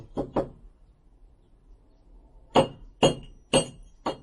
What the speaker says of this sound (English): Mechanical things love the hammer. Tappy, tappy.